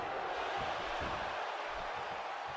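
Steady roar of a large arena crowd in a WWE 2K wrestling game during a Jay Lethal versus Austin Aries match, a dense constant wash of cheering with faint thuds underneath and no talk.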